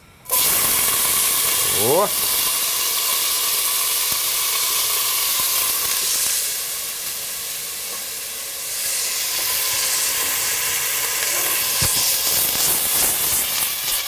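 Cucumbers and onions sizzle in a small amount of oil in a pan while cooking a sturgeon solyanka; a steady, loud hiss runs throughout, dipping briefly midway, with a short voiced exclamation and faint clinks.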